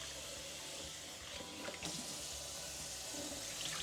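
Rice is washed under running water in a sink to rinse out starch, a faint, continuous splashing and trickling with a few soft sloshes.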